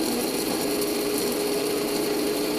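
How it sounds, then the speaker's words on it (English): An electric grinder whirs loudly and steadily as it grinds dried vanilla bean pieces into powder, a continuous close motor drone with no talking. "put them in a grinder. Careful your finger, that stuff is sharp. Then I'm going to grind them for a few seconds"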